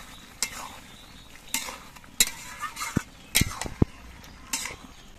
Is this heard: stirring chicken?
yes